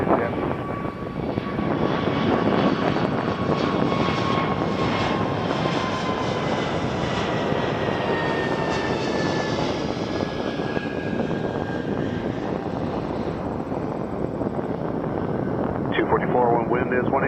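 Airliner engines roar at Toronto Pearson Airport, a loud, sustained jet rumble that slowly shifts in pitch as a plane passes, with radio voices talking over it.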